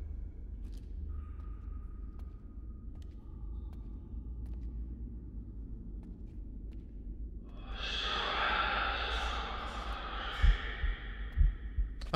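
Raspy heavy breathing of a pursuing monster in the sewers in the game Psych, rising suddenly after a quiet low rumble, with a couple of dull thuds near the end.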